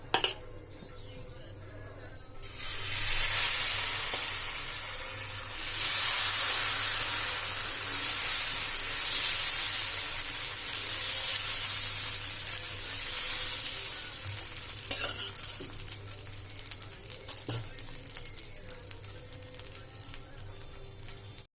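Soft dosa batter, made without urad dal, sizzles on a hot griddle. A steady, fairly loud hiss starts after a quiet opening and continues evenly, easing slightly toward the end, with no talking.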